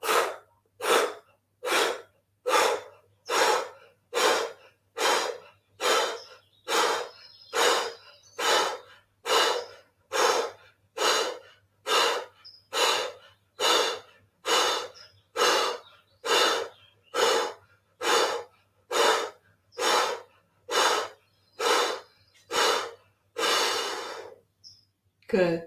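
Forceful, rhythmic pumping breaths from a yoga breathing exercise, about one sharp exhale per second repeating steadily for over twenty seconds, close and loud, ending with a final longer breath.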